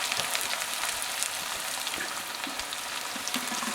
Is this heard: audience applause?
no